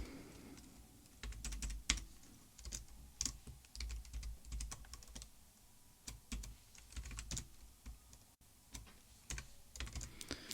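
Code is typed on a computer keyboard in a quick, uneven patter of close, soft key clicks with brief pauses, quiet and alone.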